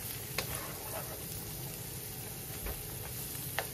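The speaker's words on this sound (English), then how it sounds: "Allow these vegetables time to soften. Your onions will get translucent. The jalapenos will change color." Onions and jalapenos sauté in a pan, a soft, steady sizzle with a few light stirring clicks, quiet and close.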